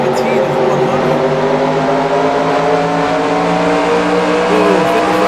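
NASCAR stock cars racing at Richmond in a simulation game, a loud sustained drone of several engines with layered overlapping tones, continuous throughout with commentary over it.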